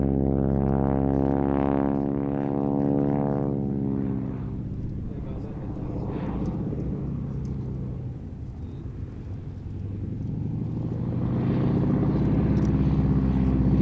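A Stearman biplane flies a gentle display at an English airshow, its radial engine droning with a deep rumble that swells, fades and builds again as it passes, steady and fairly loud, with a commentator's voice talking over it.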